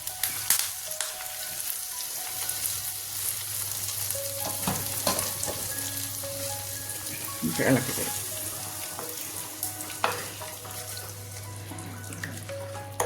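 Curry leaves and two chillies sizzle in hot oil for tempering a padavalanga (snake gourd) curry, crackling and spattering with sharp pops and clinks, close and busy for most of the stretch.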